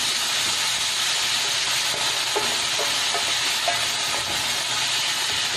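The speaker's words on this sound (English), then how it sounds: "Just saute and wait for those tomatoes to be soft" Chopped tomatoes sauté in a pan for turmeric fried rice, giving a steady, loud broadband sizzle throughout with a few faint stirring clicks, no talking.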